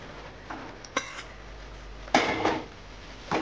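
Fried cauliflower is stirred into a thick curd-based gravy in a pan, the spoon scraping and clinking against metal in a few brief strokes, close up and without talk.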